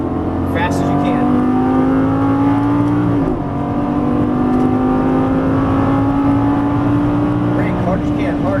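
Lamborghini Gallardo LP550-2 on a track, its engine note loud and continuous as it squeezes on power then brakes hard, with a dip in the roar around the braking point and a man coaching over the engine.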